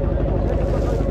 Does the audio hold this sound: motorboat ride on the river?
yes